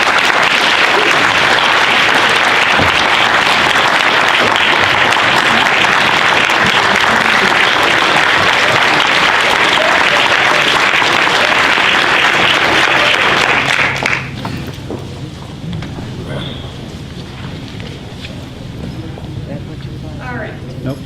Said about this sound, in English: if we could have a round of applause for all of you